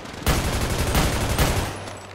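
Sustained automatic gunfire from the video game GTA 5 roleplay, a loud, rapid burst of shots rattling continuously for about two seconds before cutting off.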